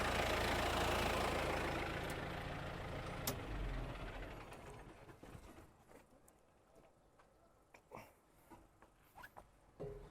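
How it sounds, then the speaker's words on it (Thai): A loud Kubota M135X 135-horsepower tractor engine rumbles steadily, then winds down and cuts out around the midpoint, leaving quieter scattered clicks and knocks. "ขออนุญาตดับเครื่องก่อนนะครับ"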